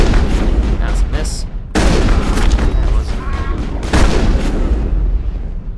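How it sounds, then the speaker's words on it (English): Shotgun blasts in the Mass Effect video game ring out as two loud, sharp bursts over continuous combat noise, with game voices in the mix. "This shotgun is so powerful."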